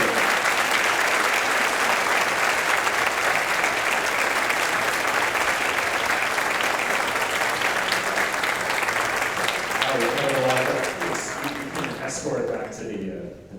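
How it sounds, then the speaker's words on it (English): Steady, loud applause from a seminar audience, dense clapping that holds for several seconds before tapering off at the end, with a voice speaking over the final moments. "So everyone, a big round of applause for that."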